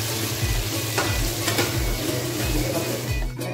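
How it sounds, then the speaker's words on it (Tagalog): Onion stirred as it fries in oil after garlic, a continuous crackling sizzle broken by regular rhythmic spoon strokes against the pan, close and prominent. "Isunod na po natin ang onion. Haluin po natin siya para medyo malata yung oil niya."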